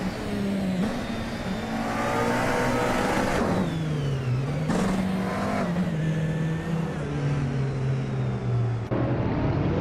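Race cars roar continuously around a video game track, engine tones rising and falling as they speed past and shift, loud and steady throughout with no talk.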